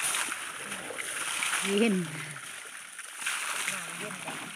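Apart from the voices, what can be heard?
elderly elephant splashing while bathing in a pond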